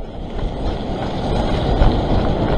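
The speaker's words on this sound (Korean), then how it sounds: "파도, 파도, 파도, 파도." Ocean waves surging against the rocks of a shoreline fishing spot at Yellow Rock near Sydney, Australia, a loud continuous roaring wash with wind buffeting the microphone throughout.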